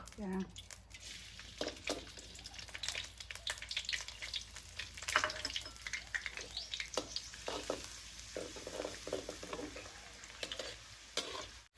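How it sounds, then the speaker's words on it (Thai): Minced garlic fries in hot oil with a steady crackling sizzle and frequent stirring scrapes throughout, close and moderately loud; faint voices sit in the background. "ตั้งน้ำมันให้ร้อนครับ จากนั้นใส่กระเทียมสับเนาะ"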